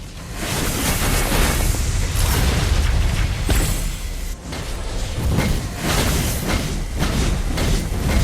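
Turret being destroyed in the Mobile Legends mobile game, a dense, loud rumbling blast with layered booms and game effects running continuously, heavy low-end throughout.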